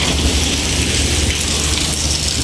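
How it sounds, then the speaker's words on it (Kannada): Heavy rain falls in a loud, continuous roar with a deep low rumble beneath, constant and near from start to end, with no talking. "ಮಳೆ ಬರ್ತಾ ಇದೆ ಫುಲ್ಲು ಮಳೆ"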